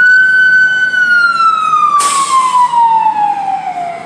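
A fire truck siren wails loud and close, its steady tone sliding lower in pitch as the truck passes, with a brief harsh blast partway through.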